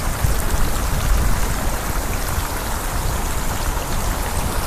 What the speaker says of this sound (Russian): уже капает как-то сильно на меня